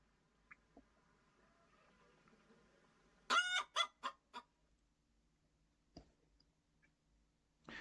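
A hen clucks in a quick burst of several loud, sharp calls, preceded by faint scattered clucks and followed by a few quieter single ones.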